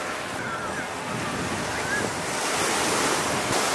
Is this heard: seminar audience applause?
no